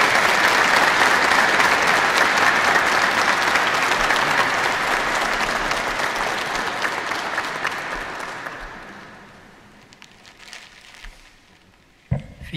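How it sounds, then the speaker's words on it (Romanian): A church congregation at a patronal feast liturgy applauds loudly and steadily for about eight seconds, then the clapping fades away to a near-quiet room with a few stray sounds. "vă aplaudăm din"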